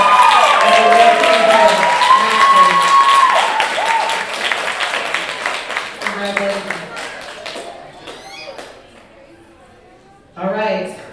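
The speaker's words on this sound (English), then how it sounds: "Let's give her another round of applause." Dense applause and cheering from a bodybuilding show audience at the OCB Hall of Fame Pro/Am women's show, loud at first and fading out, with an announcer's amplified voice starting near the end.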